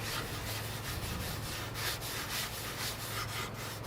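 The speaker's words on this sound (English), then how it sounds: "I'm using the same cloth I used to rub the tar on, kind of rub it down." A cloth rubs down the tarred wood of a bonsai tree with continuous, close, rasping strokes in a steady back-and-forth rhythm.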